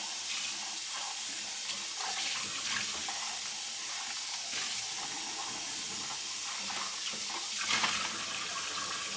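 A kitchen tap runs water in a steady hiss for a quick rinse, close by and moderately quiet, with small splashes changing as the item is moved under the stream.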